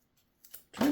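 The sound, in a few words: scissors cutting a leather belt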